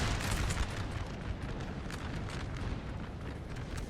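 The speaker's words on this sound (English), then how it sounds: "Artillery's starting to tell on this line" Artillery fire in a large Napoleon: Total War battle recreating the Battle of Tolentino, a continuous, dense rumble of overlapping booms that holds steady and loud for the whole stretch.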